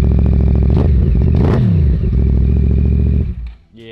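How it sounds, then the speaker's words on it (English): A motorcycle fitted with a Graves low mount exhaust fires up and idles loud and close with a deep, steady rumble and a brief rev, then cuts out near the end. "I put the exhaust on it, the Graves low mount, which I think sounds sick. Let's fire it up real quick."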